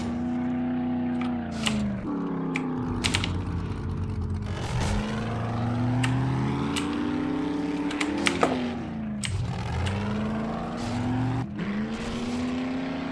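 A jeep in the video game 7 Days to Die drives steadily with a continuous engine drone whose pitch rises and falls, with occasional tyre and impact noises and no talking.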